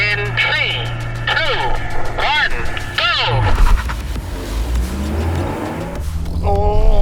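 Three hot hatchbacks, a Civic Type R, a GR Corolla and a Golf GTI, rev and launch in a drag race, engine roar rising and swelling loudly under excited shouting and chatter.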